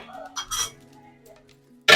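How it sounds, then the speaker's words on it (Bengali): A metal lid set down on a pot of white pilaf (polao) in a home kitchen, a sharp clanking clink at the end after a few softer kitchen knocks and scrapes. "পোলাওটা এখন ঢেকে দিতে হবে।"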